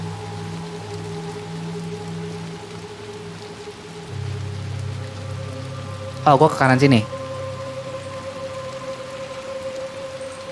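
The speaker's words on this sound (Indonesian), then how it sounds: "jangan jatuh karena sekarang lagi hujan" Steady rain in the video game Little Nightmares 2 patters as a constant wash beneath low sustained drones, with a short burst of talking partway through.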